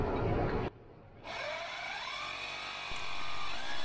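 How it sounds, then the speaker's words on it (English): An old rotary hammer chipping holes into a concrete slab to anchor aluminum post clips for a boat shed, a steady loud grinding rattle broken by a brief pause before running again. "Using my old rotary hammer here to put the holes in the concrete."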